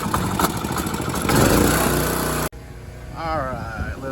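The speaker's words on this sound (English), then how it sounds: "let's give the generator a good old pull" A portable generator is pull-started at an RV with an AC fault, its engine catching and running loud and steady for a couple of seconds before cutting off abruptly, followed by quieter ambient sound.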